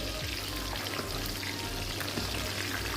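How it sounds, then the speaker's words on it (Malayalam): Quail pieces frying in hot oil over low heat, a steady, dense sizzle and crackle that fills the whole stretch without pause, close by and with no talking. "ഓയിൽ ചൂടായിട്ടുണ്ട് അതിലേക്ക് ഇട്ട് കൊടുക്കുന്നുണ്ട് ചെറുതീയിൽ ഇട്ട് കൊടുത്തിട്ട് ഒന്ന് ഫ്രൈ ചെയ്തെടുക്കാം"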